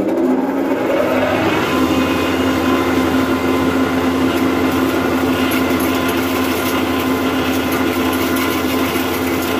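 A single-phase combine mill machine runs with a loud, continuous mechanical drone. It holds steady and close for nearly ten seconds with no talk over it.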